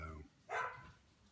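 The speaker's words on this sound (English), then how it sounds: "the dogs today are just driving me insane" A dog gives a single short bark at a distance, faint and set against a quiet background after a brief low hum.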